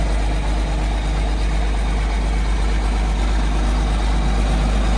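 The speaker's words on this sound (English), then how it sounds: "You can't really hear how loud this tractor is with that straight pipe now." A loud, heavy Case 4494 tractor engine with a straight pipe idles steadily at close range, a constant deep rumble with no voices.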